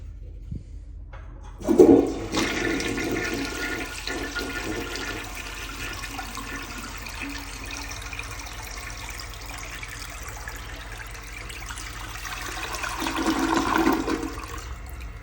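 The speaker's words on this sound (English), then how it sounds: "we're gonna flush the 10th anniversary of my toilet collection" A toilet flushes with a sharp initial rush of water, then a long steady roar of draining and refilling that swells again near the end, loud and close with no talking.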